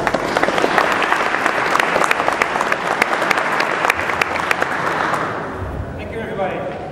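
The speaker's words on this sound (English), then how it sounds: "Big round of applause." A conference audience at a mobile convention gives a loud, dense round of applause that holds for several seconds and then fades, with some voices mixed into the clapping.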